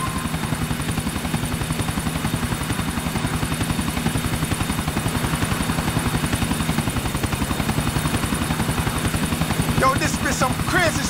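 A helicopter in Grand Theft Auto IV thrums with a steady, rapid rotor chop and engine whine, loud and unbroken throughout, with faint game sounds near the end.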